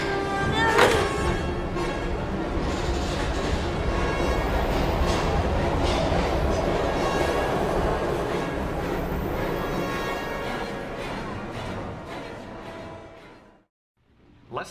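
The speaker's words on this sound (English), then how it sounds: "We gotta get on that train, Ethan." A train rumbles through a Heavy Rain video game cutscene, a dense rolling roar with metallic rattling and faint clatter that holds steady and then fades before a brief thump at the end.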